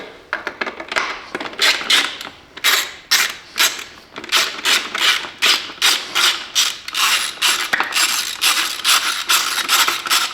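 A ratchet wrench loosens an airbox bolt on a Husqvarna 701 Enduro, with rapid repeated clicking ratchet strokes in quick bursts, loud and close, continuing steadily for the whole stretch with no talk.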